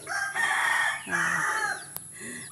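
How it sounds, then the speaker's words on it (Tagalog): Chickens cluck and a rooster crows nearby in a vegetable garden, with overlapping harmonic calls and a short sharp click near the end. "Andyan ang mga manok."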